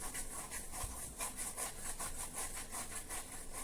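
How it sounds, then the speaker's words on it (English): Armpit skin being scrubbed with a lemon and baking soda scrub, faint, quick repeated rubbing strokes in a steady back-and-forth rhythm, close and alone. "And just do the scrubbing."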